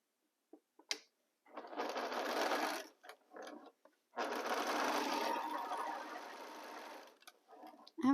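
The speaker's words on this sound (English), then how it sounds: "So I align my fabric again here and continue sewing." A sewing machine stitches rows of pieced fabric in two long runs of steady mechanical whirring, with brief pauses and small clicks between them, close and clear with no talk.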